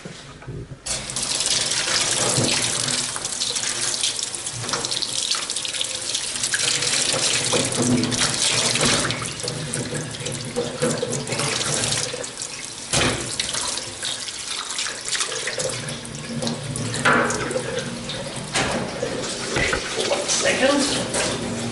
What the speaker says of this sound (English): So we'll quickly wash the fish.